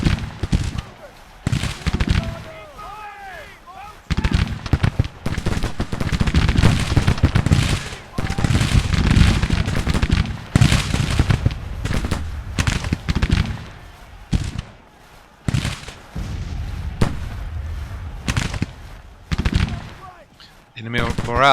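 Gunfire in a Civil War battle game, scattered musket shots and crackling volleys spread through the scene, with someone talking over much of it.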